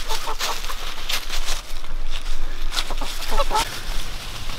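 Chickens cluck and squawk in a farmyard while scratching through fallen leaves, a busy mix of short calls and rustling at close range.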